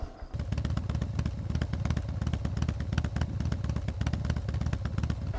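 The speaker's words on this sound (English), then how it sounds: "now with the motorcycle running" A motorcycle engine idles steadily and close by, a continuous rumbling throb with rapid regular firing pulses throughout, the mechanical clatter holding constant without revving.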